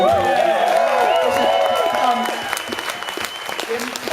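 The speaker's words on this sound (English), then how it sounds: "Could you please give a huge round of applause to the staff of the Pleasance Theatre?" Theatre audience at the Pleasance applauds the staff, a loud wash of clapping with a few cheers beneath a speaking voice that continues over it.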